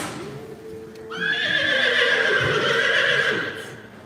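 A loud, close horse whinny at a youth reining and cattle boxing event rises and trembles for a couple of seconds before fading, preceded by faint background voices.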